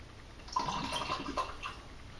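Water pours into a bearing cleaner bottle used for cleaning longboard skateboard bearings, a short, splashy trickle of liquid running for about two seconds at moderate level with no voices.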